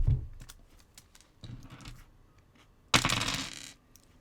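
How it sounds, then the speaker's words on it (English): Six six-sided dice roll and clatter on a table at a tabletop game session, giving scattered sharp clicks and then one loud dense burst of rattling near the end. "It's literally only 6 dice. It just sounds bad."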